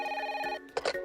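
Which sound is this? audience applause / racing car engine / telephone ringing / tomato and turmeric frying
telephone ringing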